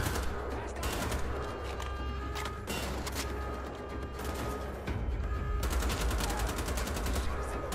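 Gunfire in the video game Wolfenstein: The Old Blood, in a prison level, rapid bursts of automatic shots running steadily through the scene at moderate loudness with no talking.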